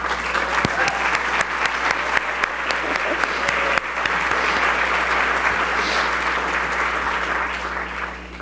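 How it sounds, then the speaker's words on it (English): An audience applauds steadily and warmly at an award ceremony, with a dense, continuous clapping that holds throughout and faint voices underneath. "so we can applaud you"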